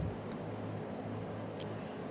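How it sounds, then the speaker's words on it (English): Flying boat radial engine in a flight simulator game drones at a steady, thin, fairly quiet level with no variation in pitch or loudness. "I agree with you guys that the engine sounds here are just atrocious"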